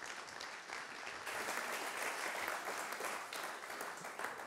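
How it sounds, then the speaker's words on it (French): Audience applause for a speaker being introduced at a French conference on AI and music, a dense, steady wash of many hands clapping that swells slightly after the first second and carries on throughout. "je vous demande d'applaudir"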